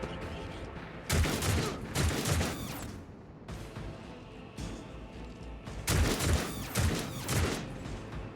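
Gunfire in Warhammer 40k Rogue Trader comes as bursts of rapid, loud volleys separated by brief lulls, with a low ambient game background between them.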